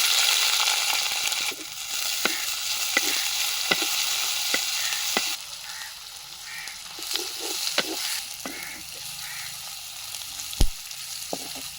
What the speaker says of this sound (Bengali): এবারে পেঁয়াজ দিয়ে দিচ্ছি